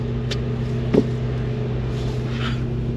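A Honda Accord idles steadily after being started, with a low even hum and a faint click or tap near the start, otherwise alone and unvaried.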